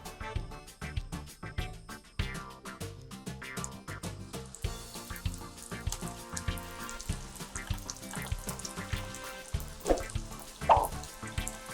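Vegetable spring rolls with mushrooms deep-frying in hot oil, a busy crackle of popping and sizzling bubbles with scattered sharper pops, steady and close throughout, with no talking.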